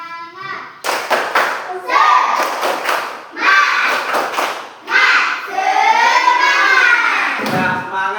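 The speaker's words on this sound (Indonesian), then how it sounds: "Kita speaking, kita tepuk semangat." A school class performs the tepuk semangat clapping chant, loud rhythmic bursts of group hand claps alternating with children's chanted voices, close and energetic, in repeated phrases with pauses between.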